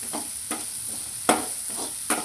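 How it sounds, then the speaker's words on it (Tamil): Cabbage fries in a pan with a soft, continuous hiss, punctuated by a few sharp scraping taps of a spatula against the pan at irregular intervals. "உஸ்ஸுன்னு சவுண்டு மட்டும்தான் வந்துட்டுருக்கு இப்போதைக்கு"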